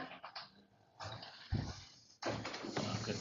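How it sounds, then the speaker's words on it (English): An unhappy puppy whimpers and whines in bursts in the background of a county commission meeting room, the thin cries coming and going with short pauses between them. "If you guys hear an animal wailing in the background here, it's just a puppy that's very unhappy."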